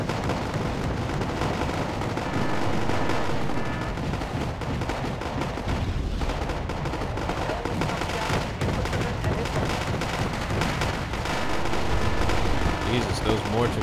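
Mortar fire in Wargame: AirLand Battle, a steady barrage of distant booming artillery thuds and gunfire crackle layered over continuous battlefield rumble, with bursts overlapping throughout.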